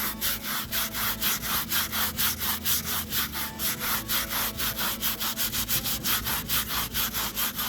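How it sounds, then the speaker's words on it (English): A nylon scrub brush scrubs charred, burnt wood on a fractal-burned tabletop, a close, rhythmic rasping of repeated back-and-forth strokes that goes on steadily throughout. "I'll scrub this with the scrub brush. This is just a nylon brush."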